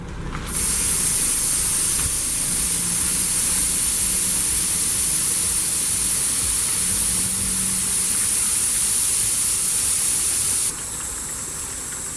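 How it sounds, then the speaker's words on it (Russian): Air hisses loudly and continuously out of a car tyre being deflated to 10 psi, a steady close-up rush that runs for about ten seconds before easing off. "Мы с вами сейчас спустим у автомобиля два колеса до 10 пси."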